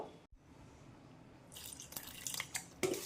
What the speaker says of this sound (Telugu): కొంచెం నీళ్లు వేసుకుందాం దీంట్లో